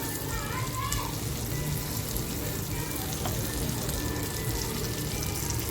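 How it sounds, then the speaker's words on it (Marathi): Eggs fry in hot oil in a kadhai, giving a steady, even sizzle that runs from start to end while someone talks over it. "ही अंडी आहेत ना आपल्याला अशी छान फ्राय करून घ्यायची आहे"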